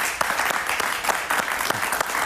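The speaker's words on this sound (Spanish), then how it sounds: "Un aplauso para él, por favor." Studio audience applauding a guest on a TV talk show, a steady burst of dense clapping with sharp individual claps standing out, loud and close, with no talk over it.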